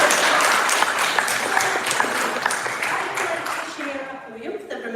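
An audience at a book launch breaks into sustained, loud applause with some cheering, the dense clapping filling the room before gradually thinning out near the end.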